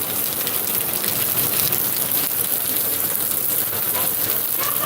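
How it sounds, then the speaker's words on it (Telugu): Rain keeps falling in a steady, even hiss across the whole stretch, a continuous wash of drops on surfaces without any voices. "వర్షం తగ్గింది"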